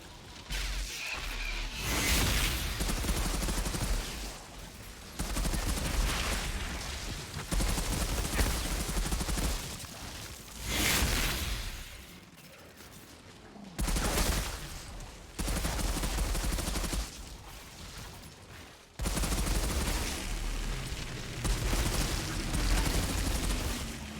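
Sustained gunfire in the video game Epoch comes in long, loud, dense volleys of shots separated by brief lulls, heavy and continuous throughout with no speech.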